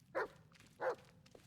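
Two short, close barks from the dog in the video game Blair Witch, spaced about half a second apart, with faint shuffling between them.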